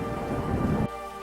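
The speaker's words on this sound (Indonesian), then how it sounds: "Derasnya hujan yang disertai petir" Heavy rain with low thunder rumble as a story sound effect, a dense steady wash that cuts off abruptly near the end, leaving a thin hum.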